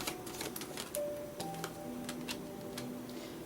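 Mermaid oracle cards being shuffled and pulled make quick dry ticks and clicking snaps in an uneven rhythm, close and soft, over a faint hum and low tones.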